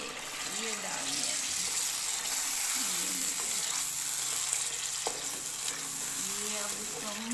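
An eggplant and egg masala mixture frying in a pan for Kashmiri baingan egg bharta, a steady, fairly quiet hiss and sizzle with occasional stirring knocks and faint tonal background sounds throughout.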